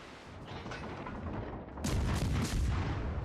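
Naval secondary battery guns firing in World of Warships Legends, a dense rumbling barrage of overlapping shots that grows louder and heavier midway, continuous with no talking.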